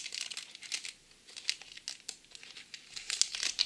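Plastic packaging crinkles and tears as an AliExpress parcel holding a paintbrush is opened, close and bursty, with quiet gaps between the rustles.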